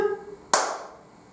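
A single sharp hand clap, close and clear, standing alone after a faint voice fades out.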